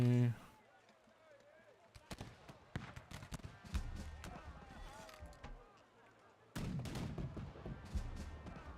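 Sharp gunshots and heavier artillery blasts crack out in irregular bursts during a war strategy battle, with quieter gaps between them and a dense volley near the end.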